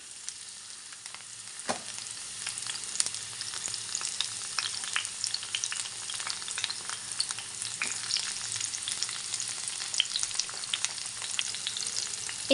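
Raw mango and tomato pieces sizzle and fry in hot oil in a pan for chutney, a steady crackling hiss with scattered sharp pops, fairly close and continuous with no talk.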